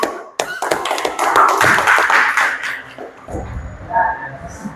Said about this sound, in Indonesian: tepuk tangan, benar.